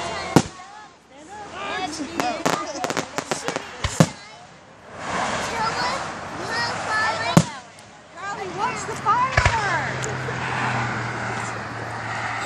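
Sharp firework bangs crack repeatedly, some close and loud, with crackling bursts between them while people talk over the noise.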